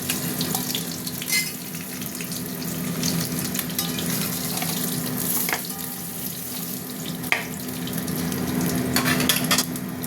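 Oil for egg curry fries steadily in a wok, a dense, even sizzle close by with faint clinks and scrapes, continuous for the whole stretch with no voices.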